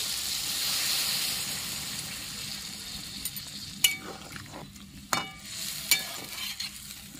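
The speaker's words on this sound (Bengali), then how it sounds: "ভালো করে কষানো হয়ে গেছে, আমি জল দিয়ে দিচ্ছি" Water hits a hot pan of fried long bean curry with a loud rushing sizzle that fades, followed by several sharp clinks and scrapes of a spatula stirring the pan.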